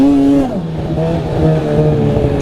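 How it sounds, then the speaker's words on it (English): A 2021 Ski-Doo Riot X snowmobile on a lake trail, its track spinning: a loud, steady engine whine that dips in pitch early on, then holds a rough, high-revving drone with no voices. "Track's just spinning."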